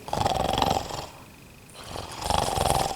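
Two loud, drawn-out snores with a rumbling, growling quality and a quiet pause between them, likely a voice imitating snoring.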